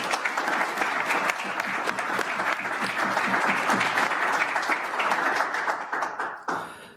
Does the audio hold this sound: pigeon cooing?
no